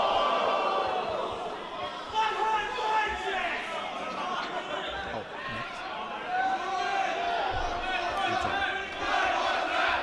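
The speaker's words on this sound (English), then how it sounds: "The crowd asking for one more." A wrestling crowd at a live ring event chants loudly for one more, a dense rhythmic roar of many voices that carries on steadily across the whole stretch with scattered shouts rising over it.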